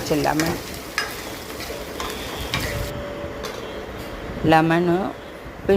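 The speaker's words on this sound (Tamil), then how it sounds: "பாருங்க, கடலைப்பருப்பு செவக்க வறுந்துடுச்சு." Chana dal roasts and sizzles in a pan while being stirred, a steady frying hiss with occasional scraping, and a person talks over it at the start and near the end.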